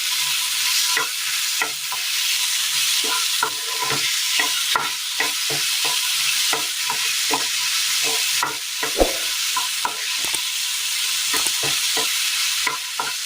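Ripe jackfruit pulp sautés in ghee or oil in a pan for a Kerala recipe, a constant bright sizzle punctuated by frequent knocks and scrapes of a spoon stirring, close and with no talk.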